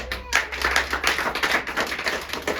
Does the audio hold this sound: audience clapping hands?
yes